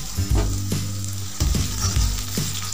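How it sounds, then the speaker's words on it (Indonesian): Onions sizzle in a hot frying pan, a loud steady crackle broken by several bursts as they are stirred and tossed, with no talking. "Kita tumis sampai semuanya harum ya."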